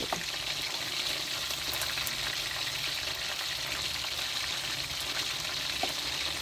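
Steady, dense sizzling of chicken frying in hot oil, close and continuous with crackling pops throughout, no talking.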